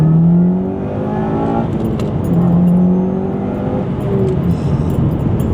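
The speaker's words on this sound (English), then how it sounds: "Just gonna slow down slightly and give it a little another go on boost." Turbocharged 2.0-litre engine of a JDM Subaru WRX STI pulling hard on boost from inside the car, a loud steady drone whose pitch climbs through the revs, with a short dip around a shift before it builds again.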